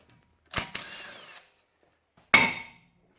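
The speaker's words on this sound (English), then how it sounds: "Smack it with a hammer." Three sharp hammer strikes hit the brake rotor of a Chevy Avalanche, each ringing with a bright metallic clang. Two come in quick succession and a third follows after a short pause, all close and with no speech.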